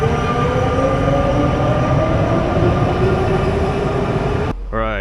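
A Milan metro train rumbles along steadily from inside the carriage with a constant low roar and faint tonal whine, and the sound changes abruptly near the end.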